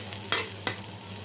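Fish being sautéed and stirred in a pan with spices: a quiet, steady sizzle with two brief scraping stir strokes of the spatula against the pan.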